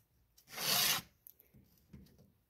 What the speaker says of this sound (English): Let me do one more here, then I'll sharpen the rest of it